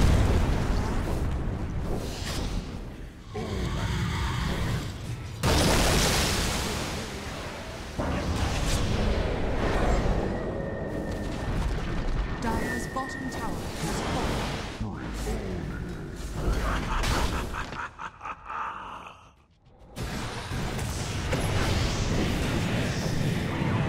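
Towers and barracks explode in the video game Dota as heavy booming blasts and rumbling bursts roll on for many seconds, with an announcer voice speaking over the destruction.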